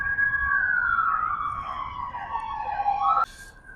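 Fire brigade engines pass through a small town, a loud wailing siren sweeping slowly downward in pitch over steady traffic rumble before cutting off abruptly near the end.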